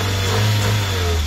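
Engine of a Chevrolet Aveo 1.2 16V running close up, a loud, steady low hum with a slight rise in pitch, no voices over it.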